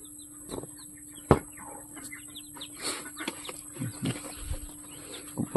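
Chickens and chicks cluck and peep in a pen, with scattered close clucks, soft chirps and one sharp louder call against a steady background hum.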